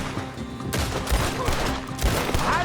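Gunfire in the Red Dead Redemption 2 western game, a dense fusillade of rifle and pistol shots with several loud sharp cracks bursting over a steady din of game noise, close and continuous.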